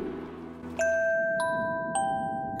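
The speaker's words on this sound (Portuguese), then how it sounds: "O sino marcou 6 horas no domingo de Páscoa" A bell in the video game Child of Light rings clearly several times in succession, each strike a bright metallic tone with a lingering ring, over a faint background.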